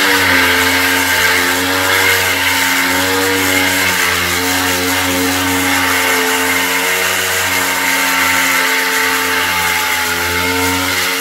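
An angle grinder runs continuously with a steady, loud motor whine and layered harmonic hum, close by and unbroken throughout, with no talk over it.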